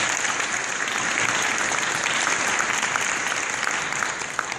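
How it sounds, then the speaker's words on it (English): Audience at an ACUTA 2014 conference talk applauding a speaker's introduction, a dense, steady wash of clapping from many hands that holds level throughout and tapers slightly at the end, with no voices over it. "I think that alone deserves a round of applause"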